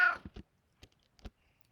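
A pet cat gives one short, bright meow right at the start, followed by a few faint, sparse clicks and shuffles in an otherwise quiet room.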